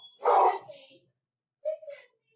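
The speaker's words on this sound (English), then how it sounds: "my dog is barking" A pet dog gives two short barks in a home, the first loud and close, the second fainter after a pause of about a second.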